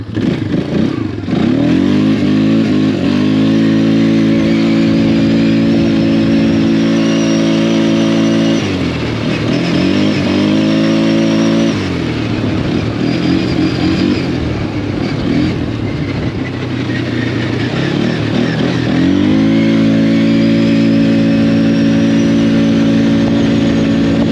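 A Polaris Scrambler 500 H.O. ATV engine, already warm, runs loud and close after startup. A steady throbbing idle swells into brief revs and settles back twice.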